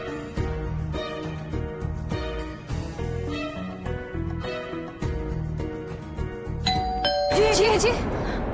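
A doorbell in a home rings with a two-tone ding-dong near the end, cutting through dramatic background music and scene sound.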